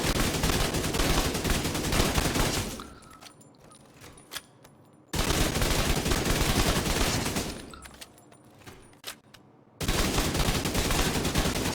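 A build tuned for maximum damage is tested against elite enemies in a shooter video game, with two long, loud bursts of rapid automatic fire separated by quiet gaps, then a third burst starting.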